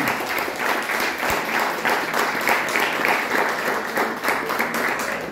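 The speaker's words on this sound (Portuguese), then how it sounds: "Então dê um aplauso bem gostoso se você está entendendo" An audience at a sermon or church gathering applauds, dense steady clapping from many hands holding at an even level throughout, with no voices standing out.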